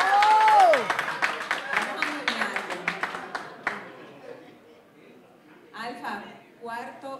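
At an album launch, scattered applause rises and fades out over a few seconds. Voices speak and a rising tone is heard at the start, and the clapping gives way to talking at the end.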